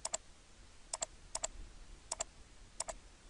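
Mouse clicks in AutoCAD-to-Illustrator editing work, five quick double clicks spaced about half a second apart, close, crisp and isolated over a faint background hiss.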